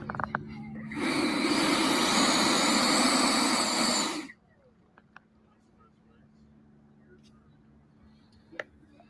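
An RC model airplane roars past at close range for about three seconds, a loud buzzing engine-and-wind rush that cuts off sharply, leaving quiet outdoor background with a few faint clicks.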